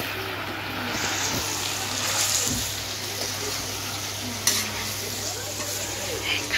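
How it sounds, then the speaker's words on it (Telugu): Steady, loud sizzling of chicken frying in a pan, a continuous crackling hiss with faint clinks, no voices. "చికెన్ ఏమో ఒక పక్కన ఫ్రై అవుతుంది కదా"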